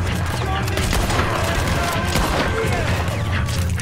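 Gunshots in the Red Dead Redemption 2 video game form a dense, continuous barrage of loud cracks and booms that fills the whole stretch without a break.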